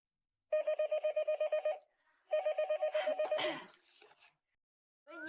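An office desk telephone rings in two bursts of rapid electronic trilling, near and clear, followed by a breathy gasp and a brief rustle.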